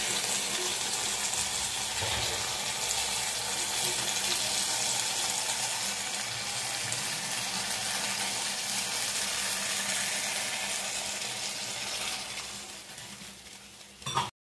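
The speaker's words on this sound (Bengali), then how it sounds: "একটু জল দিয়ে দেবো।" Water poured into a pan of frying jeera parshe fish, a steady broad hiss and bubbling sizzle that holds for about fourteen seconds before tapering off, with no talking over it.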